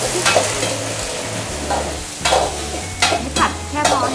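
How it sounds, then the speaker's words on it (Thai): Shrimp stir-fried with garlic in a pan, a loud sizzle with repeated bursts of stirring and spatula scraping, with no talk. "เอากุ้งลงไปผัด"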